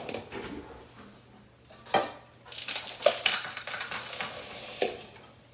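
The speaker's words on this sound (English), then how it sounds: "So in our saucepan, we put in our chopped chocolate." Chopped chocolate tumbles into a saucepan with a few sharp metallic clinks and knocks, scattered unevenly over several seconds against a quiet kitchen background.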